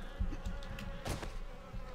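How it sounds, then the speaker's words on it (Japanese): A fly buzzing close by in the zombie survival game 7 Days to Die, a steady droning hum that lasts throughout with no talking. "あ、ハエだ"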